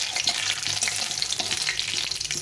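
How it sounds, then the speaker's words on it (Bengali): Cumin seeds, a bay leaf and a dried red chilli fry in hot oil, a close, crackling sizzle that stays busy and even throughout, with no talking. "আর একটু জিরে ফোড়ন দিয়ে দিলাম।"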